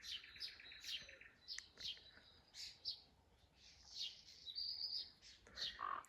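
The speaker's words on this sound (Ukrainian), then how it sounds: "Пташки цвірінькають." Morning birdsong fills the air outdoors, with several birds chirping and trilling in quick bursts throughout, fairly close and clear over a faint background.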